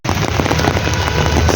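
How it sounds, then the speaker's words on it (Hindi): Heavy rain pours down steadily in Nainital, a loud, dense, continuous hiss with no gaps. "सवेरे से ही आज ज़बरदस्त बारिश हो रही है"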